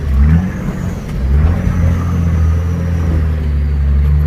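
A Nissan GQ Patrol engine crawls up a steep sand hill in second low on new paddle-style tyres, giving a loud, steady low rumble and whir that swells slightly as it pulls, with no talk.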